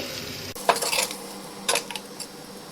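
A spoon scrapes and clinks around a pot in a few short bursts, stirring thick dal makhani, with a faint background hiss.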